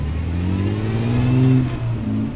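The straight-six engine of a 1962 Austin Healey revs up and eases back down, a close, throaty, continuous drone that rises in pitch for about a second and a half before dropping, then picks up again briefly.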